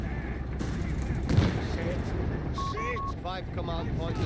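Gunfire from the anti-tank gun in Company of Heroes 3 strikes a German Stuka vehicle's frontal armor and bounces off. One thump comes early amid steady battle noise, then a whistling tone and a quick run of chirping effects follow.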